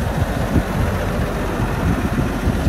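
A 2007 John Deere 9630 tractor engine idles with a steady low diesel rumble and rough broadband chatter, close and continuous, with no voices.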